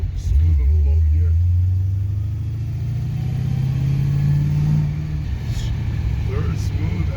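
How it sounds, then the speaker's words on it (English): A car engine hums in a low gear with a smooth, steady low rumble inside the cabin, loud and continuous, with people talking over it. "I've never had a car like run so smooth in a low gear."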